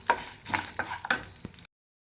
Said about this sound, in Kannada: ಗೋಡಂಬಿ ಸ್ವಲ್ಪ ಕಲರ್ ಬರೋ ತನಕ ಫ್ರೈ ಮಾಡ್ಕೋಬೇಕು